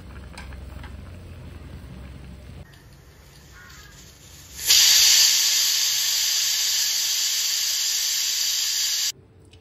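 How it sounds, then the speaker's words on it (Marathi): A pressure cooker steams potatoes in a kitchen, giving a low background rumble that gives way to a loud, steady high hiss of escaping steam lasting several seconds before cutting off abruptly. "इथं साईडला मी कुकर लावलेला आहे, त्यामध्ये मी बटाटे ठेवले शिजत."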